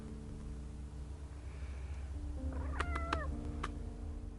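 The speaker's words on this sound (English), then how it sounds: "There's my smoochy cat." A pet cat gives a couple of short, close meows over a steady low background hum, with no talking.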